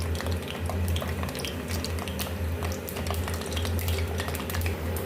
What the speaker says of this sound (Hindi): अब इसमें हम डाल लेंगे और इनको हम हल्की आंच पर अच्छे से फ्राई कर लेंगे